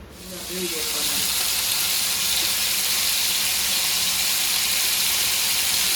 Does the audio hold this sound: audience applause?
no